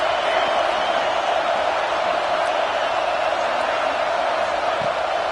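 A stadium crowd at a college football game against Auburn roars on a big third down, making a dense, loud, continuous wash of cheering without pause.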